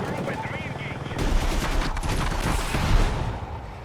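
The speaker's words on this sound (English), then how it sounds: "put a lot of bullets in them from the 30mm cannon" A 30mm helicopter cannon in Battlefield 6 fires loud, rapid bursts of heavy gunfire, dense and close, with faint speech underneath.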